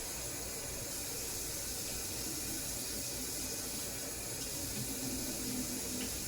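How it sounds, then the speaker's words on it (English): Steady hiss of tap water running into a kitchen sink as food is rinsed, constant and close with no pauses. "I'm gonna rinse that off"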